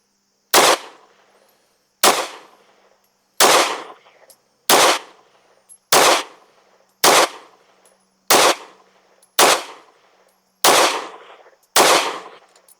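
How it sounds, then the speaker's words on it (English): Ten sharp pistol shots from an Anderson Kiger-9C fed by a factory Glock 17 magazine, fired at a steady pace about one per 1.2 seconds at a range target, each loud and close with a short decaying tail. "Let's shoot a group at the middle left target."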